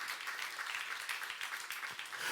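A church youth congregation claps together during a Korean sermon, a steady dense patter of hands filling the room with no clear break.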